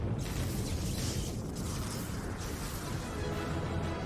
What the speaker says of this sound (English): Tough guys don't look at explosions.